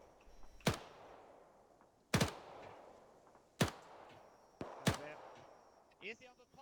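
Gunfire in the World War II game Task Force Athena: four sharp, separate shots spaced roughly a second and a half apart, fairly quiet with soft tails, followed by brief voice chatter.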